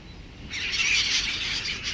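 A flock of seagulls squabbling over potato chips, a burst of high, shrill calls that rises suddenly after a quiet start and continues over faint background noise.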